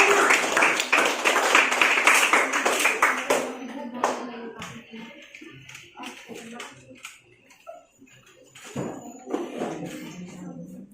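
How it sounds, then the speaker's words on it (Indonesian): A sixth-grade class claps for a student group: a burst of dense, lively hand-clapping for about four seconds, then it fades into scattered claps and classroom voices talking. "beri tepuk tangan untuk kelompoknya Anjana"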